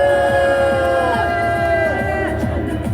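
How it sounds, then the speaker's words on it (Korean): A crowd at a Korean patriotic rally roars and shouts together, a loud sustained mass of voices with rising whoops layered over a rhythmic drumbeat. "여러분의 큰 박수와 함성으로 시작하겠습니다"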